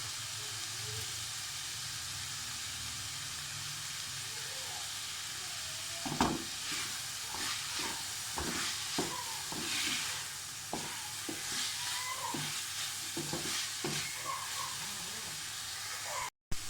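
Vegetables stir-frying in a pan for restaurant-style Chinese fried rice hiss with a low, steady sizzle, joined midway by a run of rhythmic spatula scrapes and tosses, close by, before an abrupt cut at the end.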